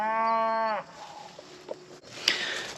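A single cow moos loudly and close on a farm, a long drawn-out call that cuts off abruptly, followed by quieter rustling and faint farmyard noises.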